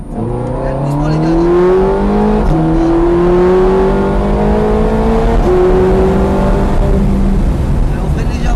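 High-revving V8 of a Ferrari F430 Scuderia driven on a track, heard from the cabin: loud, climbing engine pitch through several gear changes, with brief dips at each shift, under a driving instructor's talk.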